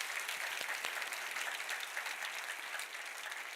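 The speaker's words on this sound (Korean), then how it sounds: "우리 의사들 박수 한번 쳐주세요." Church congregation applauding the doctors of a medical mission team during a sermon, a dense, steady clapping from a large audience that holds evenly throughout without talk.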